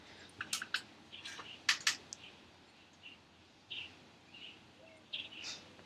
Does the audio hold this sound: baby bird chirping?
yes